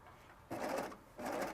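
Serger sewing corded decorative ribbon with a special foot, two short bursts of fast whirring stitching separated by a brief pause, close and steady.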